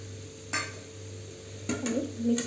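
Carrot halwa with added dry fruits being stirred in a pan, with a spoon scraping and clinking against the metal in a few short bursts over a low steady hum, no voices.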